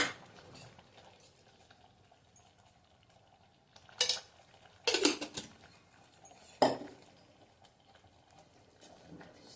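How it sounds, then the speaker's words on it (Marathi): A spoon scrapes and clanks against a pot while atwal is stirred with salt and ghee, a few sharp metallic knocks standing out over quiet, faint kitchen background. "व्यवस्थित हलवून घ्यायचंय"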